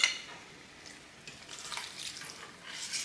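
Marsala wine pours into a hot frying pan, a soft splashing hiss with a faint sizzle rising over three seconds.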